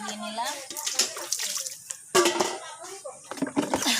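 Utensils washed by hand with water at an outdoor tap area, splashing and sloshing water running intermittently under continuous nearby talk.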